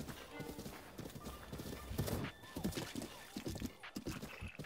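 A horse in Zelda Breath of the Wild gallops with rhythmic clip-clop hoofbeats and an occasional whinny, mixed with game sounds and music at moderate level.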